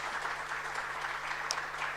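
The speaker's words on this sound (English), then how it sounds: "Could we just give her a round of applause?" Applause from an audience at a university innovation festival, a steady wash of clapping held at moderate distance for about two seconds with no break.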